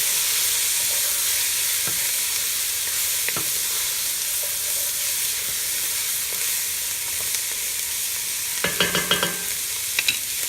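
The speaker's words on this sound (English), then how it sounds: "give it a nice stir." Red beans are stirred into sizzling sausage and pulled pork grease for Creole red beans and rice: a steady close sizzle runs throughout, with a quick cluster of spoon scrapes near the end and no talking.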